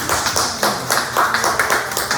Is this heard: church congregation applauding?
yes